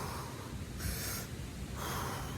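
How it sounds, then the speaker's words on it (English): A person demonstrates deep belly breathing: two slow, audible breaths with airy rushes through the mouth, close and fairly quiet, separated by a short pause. "The correct way supposedly to breathe is going."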